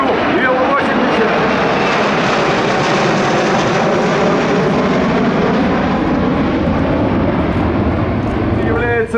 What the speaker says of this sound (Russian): Пилотирует летчик первого класса полковник Игорь Балащук, Ил-80.